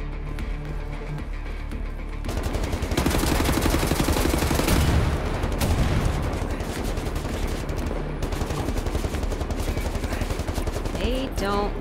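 Sustained gunfire in the shooter Wolfenstein: The New Order, loud and dense bursts of automatic fire running for several seconds after a quieter opening, with game sound continuing underneath.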